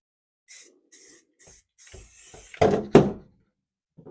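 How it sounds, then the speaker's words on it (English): Several short bursts of spray paint hiss close by from a can with a gun attachment, followed by a couple of hollow clunks and rattles of the can being handled. "If you don't have one of these gun attachments for your spray cans, get one."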